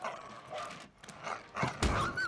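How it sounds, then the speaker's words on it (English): A dog gives a few short, close yips and barks in quick bursts with brief pauses between them. "Look at this dog, man. This is the best dog ever."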